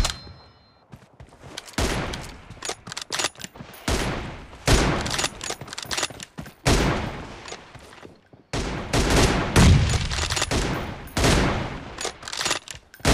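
Repeated bursts of loud, close automatic gunfire in a two-versus-two team deathmatch video game, with rapid volleys separated by brief pauses.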